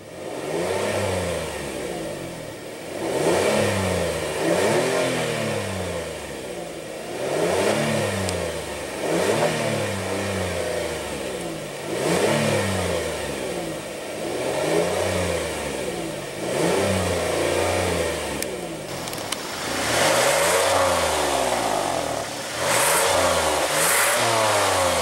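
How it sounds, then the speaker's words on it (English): A 2016 Kia Sorento with a 3.3 L V6 is revved repeatedly at a standstill, the engine climbing and falling back to idle in steady, evenly spaced pulls, loud and close with no talking. "And let's go ahead and rev it up."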